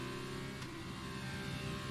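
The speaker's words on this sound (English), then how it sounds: "The car is absolutely at the rev limit." An F2 race car engine in a racing video game holds a steady, buzzing high-rev drone at the rev limit, dense and continuous throughout with no talking.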